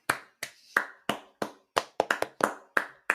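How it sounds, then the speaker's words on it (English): Sharp, separate claps from an audience, about a dozen spaced hits over three seconds, irregular and fairly close, with no talk over them. "Can we have a round of applause again for the Censorites like we do every time we do these?"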